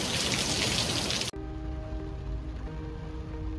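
Heavy rain pours down in Sri Lanka as a loud, dense, hissing roar for about a second, then cuts abruptly to a much quieter scene with a faint hum.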